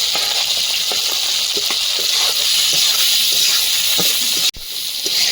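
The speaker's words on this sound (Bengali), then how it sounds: "আলুর সঙ্গে এক মিনিট ভেজে নেব" Prawns frying with potatoes in a pan give off a loud, steady hiss with faint scraping stirs underneath. The sound drops out briefly near the end, then resumes.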